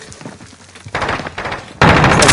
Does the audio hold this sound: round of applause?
no